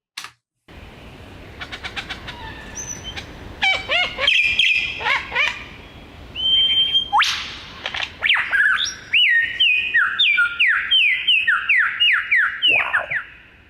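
An Australian superb lyrebird mimics a run of varied sounds, including clicks, whistles, electronic-like beeps and chirps, in dense, loud bursts with near-continuous calling and no talk.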